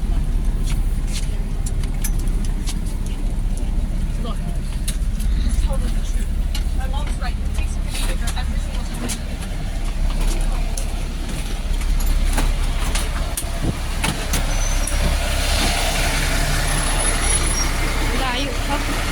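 Inside a moving bus on the way to work: a steady low rumble of the engine and road noise throughout, with scattered clicks and rattles, a hiss of air brakes near the end, and talk heard over it.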